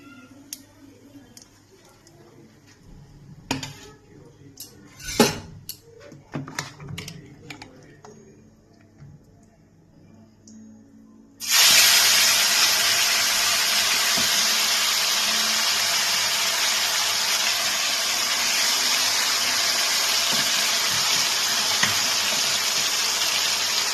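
Marinated chicken hits a hot pan tempered with cumin and bay leaf, and a loud, steady sizzle erupts midway and holds to the end, after a quieter stretch of clinks and kitchen taps.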